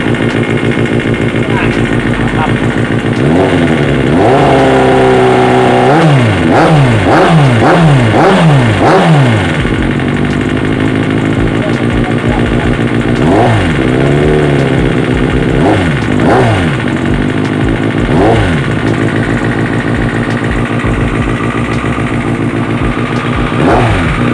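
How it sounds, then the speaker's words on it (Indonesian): A Kawasaki Ninja ZX6R with an aftermarket exhaust revs repeatedly with sharp rising and falling bursts, loud and close, settling to a rough idle between blips; voices talk over it at times. "Dia di sini pakai knalpot Afromovic ya."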